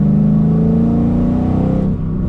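A straight-piped 2013 Camaro SS 1LE with an LS3 V8, long-tube headers and cold air intake revs loud and close, holding a deep rumbling drone before easing off near the end.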